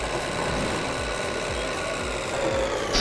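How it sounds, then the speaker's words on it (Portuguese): A room electric fan blowing steadily on a hot day, a constant broadband whoosh with a faint rhythmic pulsing, close and fairly loud throughout with no talk. "Me desculpa o som de vento atrás, é que tá um calor do cacete hoje aqui e eu tô com o ventilador ligado"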